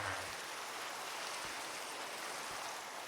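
Soft, steady rain in Minecraft hisses evenly and faintly with no breaks, no voices and only a couple of quiet low thumps.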